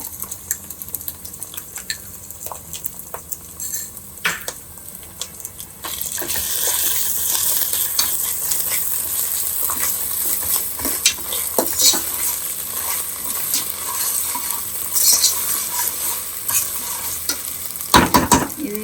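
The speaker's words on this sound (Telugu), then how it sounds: "జీడిపప్పు కూడా వేగినాక అప్పుడు అల్లం పేస్ట్ వేసుకుందాం" Cashews and ginger paste fry in a pressure cooker for chicken keema pulao, first a quiet sizzle with scattered clinks, then a louder, steady hiss of frying from about six seconds, with stirring scrapes and a sharp burst near the end.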